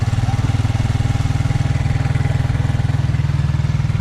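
A Ford motorcycle engine that needs cleaning runs steadily nearby, with a rapid, even chugging beat that stays loud and constant throughout.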